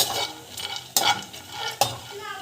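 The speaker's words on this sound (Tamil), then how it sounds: "இதுவும் வந்து நல்லா வந்து கலர் சேஞ்ச் ஆகிற வரைக்கும் ஃப்ரை ஆகணும்" Cashew pieces frying in a pan for protein laddu, a continuous close sizzle broken by two sharp scraping stirs of a spoon against the pan, with no talking.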